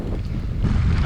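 Wind gusting across an open rocky landscape, a low rumbling rush buffeting the microphone and growing stronger toward the end.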